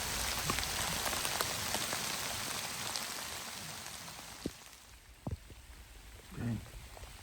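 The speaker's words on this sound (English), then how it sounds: "Those are not all raindrops, they're pellets." Heavy springtime downpour mixed with pearl-sized hail pellets, a dense outdoor hiss that eases slightly toward the end, punctuated by a few sharp close impacts.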